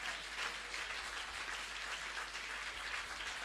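A church congregation at a Sunday service applauds together, producing a steady, dense wash of clapping from many hands that holds evenly throughout, with no voices standing out above it.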